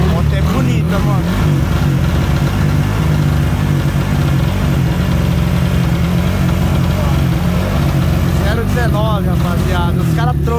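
A motorcycle engine idles steadily with a low rumble throughout, while several people talk nearby over it.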